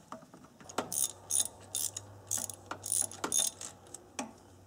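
Socket ratchet on a universal joint and long extension working a spark plug on a 4-cylinder Ford Ranger, giving a series of short, close metallic clicking bursts in an uneven rhythm, with no talking.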